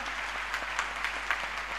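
A seminar audience at a motivational talk claps steadily, a soft, even wash of many hands at moderate distance with a few sharper claps standing out.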